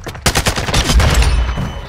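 Rapid automatic gunfire in a Call of Duty MW2 Search and Destroy match, a fast loud burst of close shots rattling for about two seconds.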